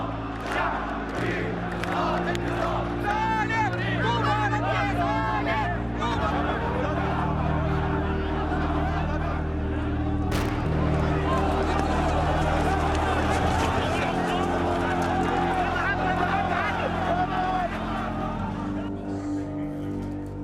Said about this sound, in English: In the square, the crowds are growing and the tension is mounting.